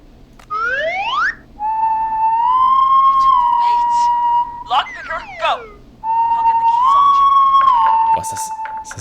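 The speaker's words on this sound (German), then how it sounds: "Der Pfeifer ist ganz schön laut." A loud whistle blown as a spotter's signal in the video game Killer Frequency: a rising swoop, then long sustained piercing tones broken by short warbling trills, repeated across several seconds with a bright, steady pitch.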